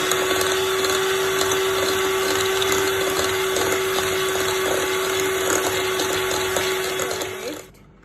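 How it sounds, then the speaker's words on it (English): An electric mixer whirs steadily and loudly for several seconds while beating milk into cupcake batter, holding a constant motor hum before cutting off abruptly at the end. "add your milk and just beat it until well combined"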